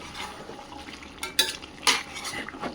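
Mutton and potatoes being browned in a pot, with a low steady sizzle under a few louder clanks and scrapes of a utensil against the metal, heard up close with no voices.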